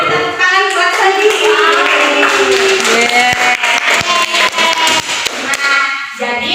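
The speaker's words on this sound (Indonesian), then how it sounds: "tepuk tangan buat Sofi" Classmates clap for a student after her biology presentation in a school classroom, a dense burst of hand claps lasting several seconds with children's voices and chatter running over it.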